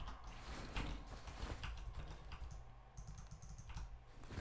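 Computer mouse buttons click repeatedly during play of the game Darkwood, with dense, fast, close clicks and taps alongside low game ambience and no talk.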